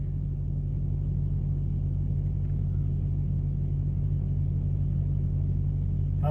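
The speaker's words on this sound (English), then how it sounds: "Ooh, a prime truck's leaving." A Prime Inc semi truck pulling away from a receiver's dock, its diesel engine giving a steady low rumble, close and continuous with no talking.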